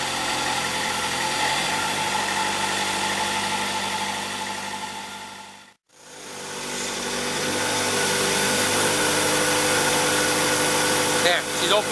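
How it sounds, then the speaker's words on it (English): Air compressor being used for tote mixing, running loud and steady with a droning engine hum, cutting out briefly midway before starting up again and running continuously at close range. "So I'm going to go start my compressor up."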